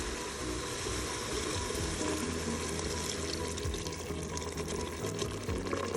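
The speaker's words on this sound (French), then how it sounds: "On va ajouter le mélange sauce tomate, huile d'olive, eau." A tomato sauce, olive oil and water mixture is poured into a Cookeo multicooker where meatballs are browning, giving a steady wet pouring wash over a constant background hiss for the whole stretch, with no talk.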